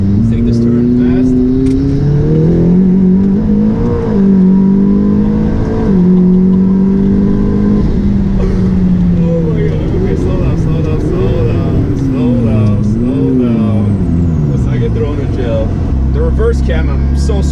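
Cadillac ATS GT car accelerating hard through a turn, engine revving loud and rising and falling in pitch as RPMs climb, with a voice talking over the engine throughout.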